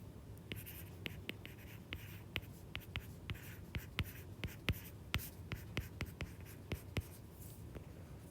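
Pen or pencil writing by hand on paper while working a physics problem on forces and trigonometry, a steady close scratching with quick taps and strokes throughout, no talking.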